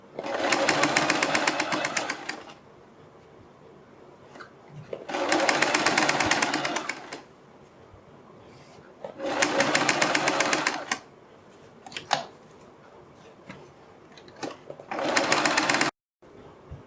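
A sewing machine stitches a kurti neckline in four steady, whirring bursts separated by short pauses, close up and with no talking.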